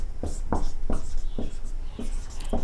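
Writing on a board during a Hindi-to-English translation lesson: a steady series of short, distinct strokes tapping out at a regular pace, close and fairly loud.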